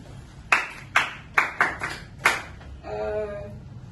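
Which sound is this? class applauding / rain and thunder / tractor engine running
class applauding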